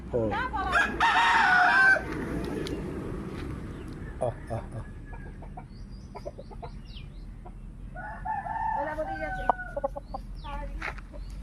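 Roosters crow loudly near and farther off while hens cluck around them in a rural yard, the calls coming in bursts with people talking in between.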